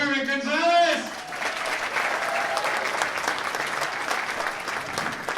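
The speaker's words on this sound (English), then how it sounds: "please put your hands together for Kermit Gonzalez!" An audience at a comedy show at Orlando Megacon bursts into sustained applause for a comedian, following a host's announcement over the clapping.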